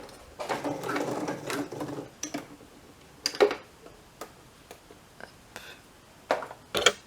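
A sewing machine stitches an invisible zipper, its needle tapping in quick rhythmic bursts with short pauses between runs, close and moderately loud.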